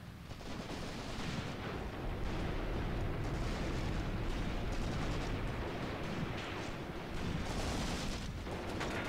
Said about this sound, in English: I wonder how many artillery shells I've lobbed at this position now.